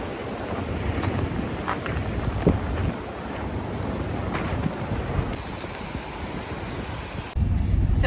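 Strong gusting wind outdoors during an Alaska wind storm, a steady loud roar with microphone buffeting throughout, rising to a heavier rumble near the end.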